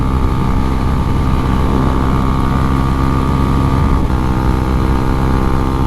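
Husqvarna Svartpilen 401 motorcycle engine droning steadily while riding, a loud continuous hum mixed with rushing wind and road noise, with no speech.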